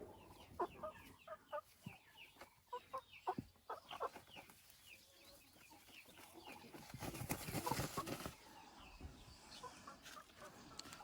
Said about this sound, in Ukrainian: Півникам жарко, вони повиходили.